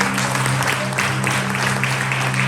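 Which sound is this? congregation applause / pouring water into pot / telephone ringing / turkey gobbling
congregation applause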